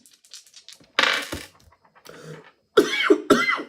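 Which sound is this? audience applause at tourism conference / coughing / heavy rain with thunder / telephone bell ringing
coughing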